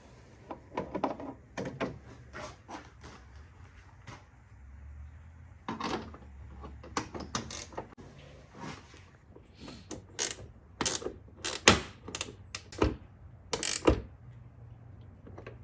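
Hood strut bolts are tightened on a Mitsubishi Evo X. Sharp, irregular mechanical clicks and clacks come close up in quick bursts across a quiet background.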